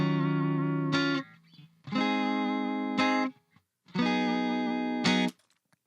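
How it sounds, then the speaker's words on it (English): An electric guitar set up for modern R&B neo soul tone plays three sustained chords completely dry, each ringing clean for about a second before being cut short, separated by brief silences. "Let's see what it's like really dry. No distortion. No reverb."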